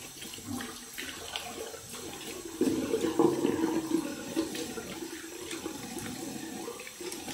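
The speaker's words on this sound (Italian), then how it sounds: "Mi sciacquo il viso con acqua fredda e sono da voi." Cold water runs from a tap into a bathroom sink and splashes as a face is rinsed after a wet shave, a steady close rush that swells louder midway through.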